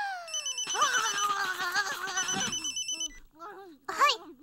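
A telephone rings in an animated Japanese film, Cardcaptor Sakura: The Sealed Card: a rapid electronic ring repeats steadily for about three seconds, fairly close, mixed with a melodic tone, followed by brief speech.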